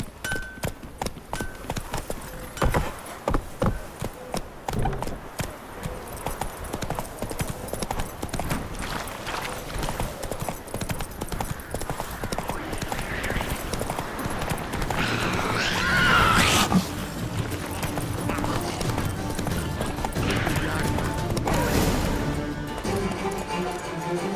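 A horse in the video game The Witcher 3 gallops with rapid, near clip-clop hoofbeats, and a loud whinny rises partway through, with hooves continuing to pound under occasional grunts and voices.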